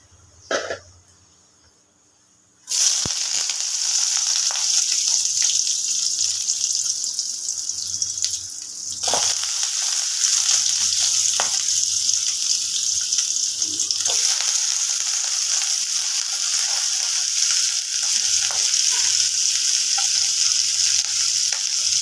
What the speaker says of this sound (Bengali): এই তেলের মধ্যে আমি একটু আলু বেগুন নিয়েছি